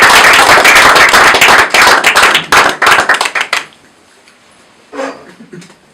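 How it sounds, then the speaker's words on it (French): Audience applauds loudly at close range with sharp, dense hand claps that thin out and stop after about three and a half seconds, followed by a brief spoken voice. "Je vous demande d'applaudir très fort."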